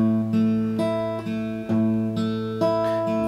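Steady fingerpicked guitar pattern alternating thumb bass notes with finger-plucked upper strings in a repeating four-count rhythm, close and clear with no talking.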